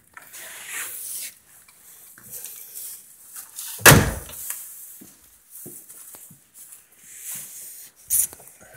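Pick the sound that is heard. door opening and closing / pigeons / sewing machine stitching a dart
door opening and closing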